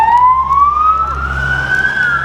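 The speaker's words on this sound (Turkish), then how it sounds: "Ambulans geçiyor saniye." Ambulance siren passing on a street near a construction area, a loud rising wail that sweeps upward over steady traffic rumble, close and continuous throughout.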